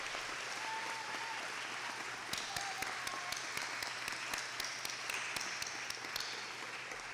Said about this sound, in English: let's give a round of applause to everybody that helped you get here